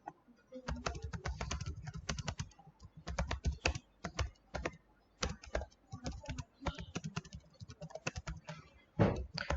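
Rapid, uneven clacking of keys on a computer keyboard while code is typed, close and clear, with short pauses between bursts and a heavier thump near the end; no one speaks.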